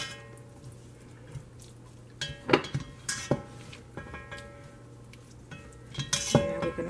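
Chicken taco ingredients get stirred in a pan, the utensil clinking and scraping against the metal in light, irregular taps over a soft background.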